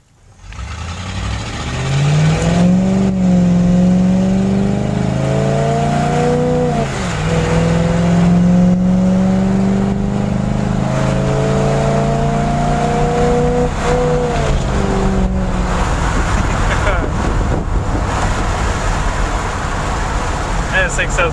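A 1963 Pontiac Bonneville with a 389ci V8 accelerating from a standstill to sixty, engine note climbing through gears with a shift dip, loud and close, then settling into a steady roar with road and wind noise and talk over it.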